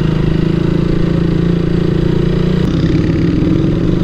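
A motorcycle engine runs steadily with a low exhaust rumble, idling and lightly revving, its tone shifting slightly partway through, loud and close throughout.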